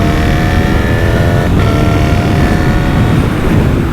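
A 2025 Honda CB1000 SP Hornet naked bike accelerating in 5th gear, a loud steady engine drone with a rising tone and heavy wind rush, heard from the rider's position.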